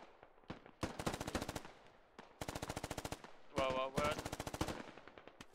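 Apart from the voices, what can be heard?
gunfire in the video game Squad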